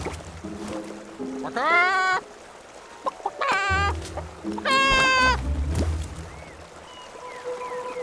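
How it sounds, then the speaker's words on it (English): Loud, harmonic clucking calls from a creature in the video game Infinity Nikki, in a few bursts like an exaggerated chicken, separated by gaps with low background tones. "I haven't even gone up yet. It's clucking already?"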